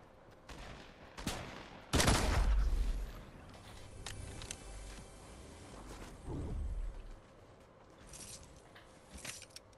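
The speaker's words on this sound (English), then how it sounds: "Oh, I hear gunshots." Bursts of gunfire crack out in quick volleys, with a loud cluster early on and scattered shots later, all sounding like rapid game weapon fire.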